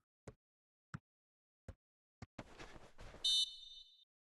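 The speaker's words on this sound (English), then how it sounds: "Whistle's gone, that's foul." A referee's whistle at a football match gives one sharp, sustained blast, following a few isolated thumps and a stretch of rising crowd noise.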